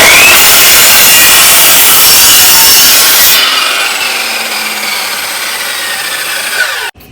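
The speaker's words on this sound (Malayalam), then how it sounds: "നമുക്ക് കട്ട് ചെയ്യുന്ന ആ ഒരു ഭാഗത്തേക്കില്ലേ ലേസർ ലൈൻ ഉണ്ട്" Power saw with a laser guide line cutting through a wooden plank for a simple storage box, a loud close whining rasp that drops in pitch midway and then cuts off abruptly.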